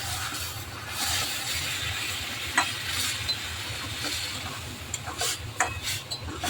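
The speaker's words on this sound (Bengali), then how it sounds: "জলটা দিয়ে ভালোভাবে মিশিয়ে নিচ্ছি ভালোভাবে নেড়ে চেড়ে একটু মিশিয়ে দিচ্ছি" Carrot and semolina being stirred with water in a pan, a steady scraping churn with faint sizzling underneath and a few sharper utensil knocks near the end.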